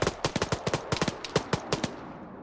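Rapid bursts of airsoft gunfire crack out during a military-style field exercise, a dozen or so sharp shots in uneven clusters, fairly close and loud with no voices over them.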